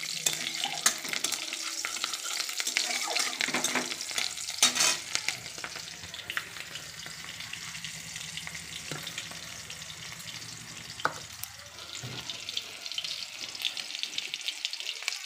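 Green chillies, five or six at once, frying in hot oil in a wok: a continuous sizzle with stirring scrapes and splashy crackles, fairly faint and close, with no one talking.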